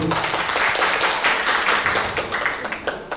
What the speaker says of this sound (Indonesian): Tepuk tangan untuk grup B.